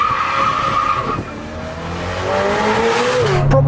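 A topless Novitec-tuned Ferrari F8 Spider with 802hp roars loudly and up close, its engine and exhaust howling through rising revs with tire-squeal-like tones, then sharp crackles and a deep burble near the end.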